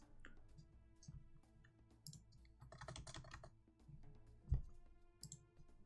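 Quiet, soft keystrokes tapped on a computer keyboard in irregular bursts while entering a mod name in a game menu, with a single louder thump near the end and no talking.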